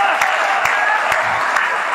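An audience claps at a Hindi poetry and storytelling talk: a dense, steady burst of applause from many hands fills the whole span, close and loud, with no speech over it.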